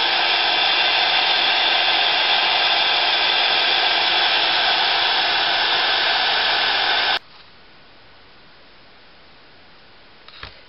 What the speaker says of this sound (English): I'm just embossing that on now